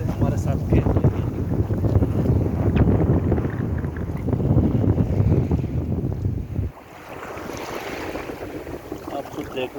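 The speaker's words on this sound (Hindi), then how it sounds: "मैं आपको ये लहरें थोड़ी सी दिखाता हूँ कि वो कैसे हमारे साथ खेल रही है।" Sea waves wash onto a beach in Dubai in rainy weather, a steady rush of surf mixed with heavy wind buffeting the microphone, easing noticeably partway through.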